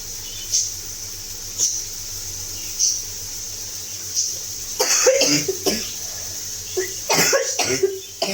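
A person coughs repeatedly, short sharp bursts spaced through the stretch and clustering toward the end, close and fairly loud over a quiet room background.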